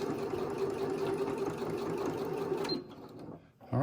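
A sewing machine stitches a fabric mask seam, with a steady, close mechanical whirr and rapid rhythmic needle clatter that stops near the end, followed by a short pause and a brief knock.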